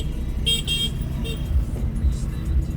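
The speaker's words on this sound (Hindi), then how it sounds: "मेन बाज़ार है ना, इसलिए यहाँ हर टाइम ट्रैफिक होता ही होता है।" Busy main market street in India with constant close road traffic, engines rumbling and several car horns tooting in short bursts over the steady din.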